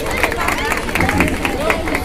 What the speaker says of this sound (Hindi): टीम डी के उत्साह के लिए एक थोड़ा सा धीमा सा ताली बजाएंगे